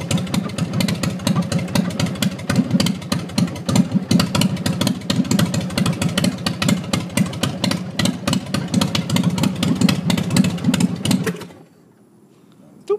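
A 2005 Big Dog Pitbull motorcycle engine idles close up with a rapid, loud, loping beat of exhaust pulses, then cuts out abruptly near the end, leaving near silence.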